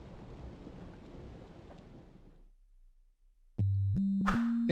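Rain and rolling thunder in a bad cult movie scene, a steady wash of downpour for about two seconds before fading out, then a loud tonal score cue takes over.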